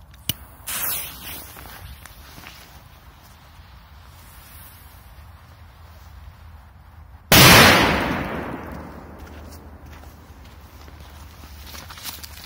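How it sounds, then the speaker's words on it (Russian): A Feeria P2000 mega firecracker hisses briefly, then after a quiet pause goes off in a single sharp, very loud outdoor bang whose roar decays over a few seconds. "мегапиратка от Феерии П2000"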